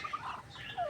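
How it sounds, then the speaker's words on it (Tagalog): A farmyard fowl, penned near ducks, gives a few short, high gobbling calls over about a second, close and fairly faint, with no talking. "Manok."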